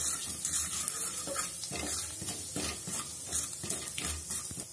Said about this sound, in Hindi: जैसे ही तेल गर्म हो जाएगा हम इसमें हींग डाल देंगे, जीरा डाल देंगे।